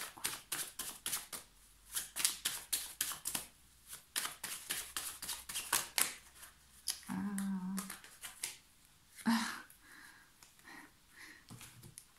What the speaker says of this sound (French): Je vais tirer une carte conseil.